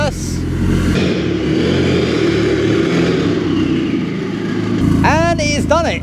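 A Mk3 Golf GTI fitted with a 1.8 20-valve turbo engine idles and creeps along under its own power, a steady mid-pitched engine drone running throughout, with a voice breaking in briefly near the end.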